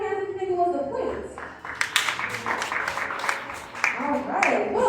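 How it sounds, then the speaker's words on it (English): A group at the Coca-Cola Museum claps loosely to vote for the plates. The scattered hand claps sit between spoken lines. "Clap your hands if you think it was the plates"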